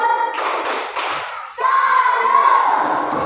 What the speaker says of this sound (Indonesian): kita beri tepuk salut diri kita sendiri